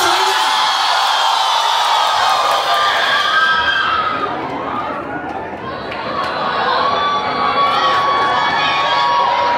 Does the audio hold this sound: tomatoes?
no